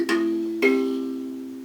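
Mbira playing a full bar of the Zimbabwean piece Mukaranga Aneshanje, two plucked metal-key attacks about half a second apart, each ringing on in a sustained buzzing tone, close and clear with no voices.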